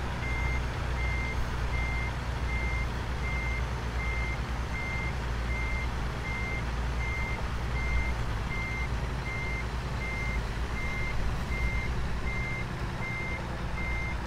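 Steady evenly spaced reversing beeps from a Peterbilt truck hauling an excavator in American Truck Simulator, repeating throughout over a constant low engine rumble as the rig backs up, no voices.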